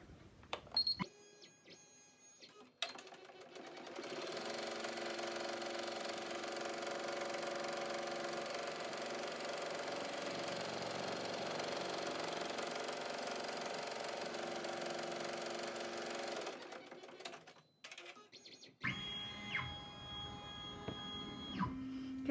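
An embroidery machine sews a tack-down stitch on a hooped hanging pocket, a steady mechanical whirr lasting about fifteen seconds, with handling clicks before and after.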